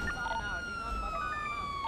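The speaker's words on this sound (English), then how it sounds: "He's not gonna go in the area and listen to sirens." A police siren in the video game GTA V wails steadily in the background, a sustained tone gliding slowly in pitch, over a low rumble of other noise.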